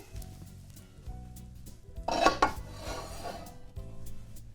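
Cornbread batter with chorizo and Manchego cheese drops into a buttered skillet with a short, close burst of soft wet scraping and clatter around the pan, then a few quieter rubbing sounds and light taps.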